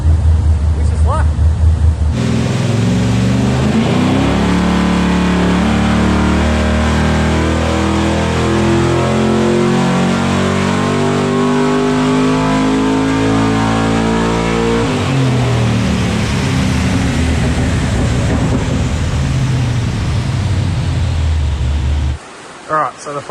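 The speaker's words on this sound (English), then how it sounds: "We've got the Torana on the dyno, it's all strapped in, ready to go, ready to make some power" A Holden Torana's engine is strapped down on a dyno, running hard in one long loud sustained pull with rising and shifting tones, dropping briefly mid-run, then winding up again before shutting off near the end.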